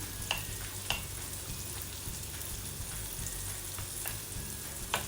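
Brinjal (eggplant) frying with onions and curry leaves: a steady, soft sizzle of oil runs the whole way through, and a few faint clicks of stirring come through near the start and the end.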